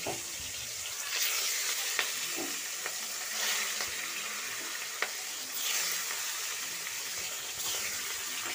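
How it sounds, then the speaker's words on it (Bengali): Pieces of rohu fish, rubbed with salt and turmeric, slide into hot oil in a home kitchen and fry with a steady hiss and crackle, occasional sharper pops standing out over the continuous sizzle. "এবার সব মাছগুলো ছেড়ে দেবো গরম তেলের মধ্যে"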